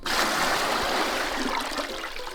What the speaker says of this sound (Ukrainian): на них кладемо тазик і наповнюємо його водою з колодязя